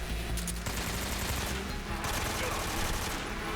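Dense automatic AK rifle fire in the Metal Gear Solid 3 video game, a continuous rattling burst with no pauses, loud and near throughout.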